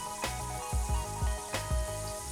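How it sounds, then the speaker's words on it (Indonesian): Chicken deep-frying in oil over a low flame, cooked until golden, for a crinkly fast-food-style fried chicken: a steady close sizzle with faint crackles and a few sharp pops and clicks. "Goreng dengan menggunakan api kecil hingga kuning keemasan atau hingga ayamnya itu matang luar dalam."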